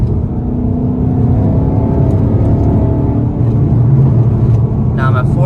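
Ford Mustang engine revving through a paddle-shift downshift, a steady close drone with rising harmonic tones toward the end while someone talks over it.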